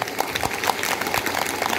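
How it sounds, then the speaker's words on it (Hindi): A brief burst of applause from an audience at a spiritual talk, scattered claps blending into a steady patter for a couple of seconds. "इसलिए अपने लिए एक बार जोरदार ताली बजा दीजिए।"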